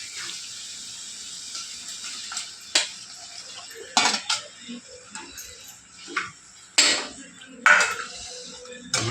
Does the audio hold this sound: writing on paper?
no